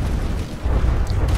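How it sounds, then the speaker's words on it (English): A torpedo strikes a ship and explodes in the naval combat game From the Depths, giving a loud, sustained low rumbling boom that swells again partway through, with no talk. "I got an inbound torpedo coming into the paddle gunner"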